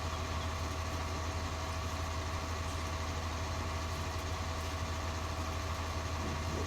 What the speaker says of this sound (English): Tractor is slowly dropping behind us.